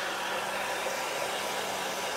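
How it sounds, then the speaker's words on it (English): Hair dryer blowing steadily to dry paint on a tin sign, a constant airy whoosh at close range with no change in level and no talking. "Now, I am going to get a hair dryer and I'm going to dry this."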